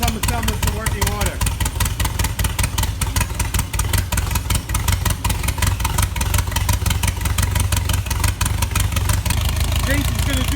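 A VW buggy engine idles steadily while warming up after a carburetor swap, a continuous low rumble with a throbbing pulse held close and loud throughout, without letup.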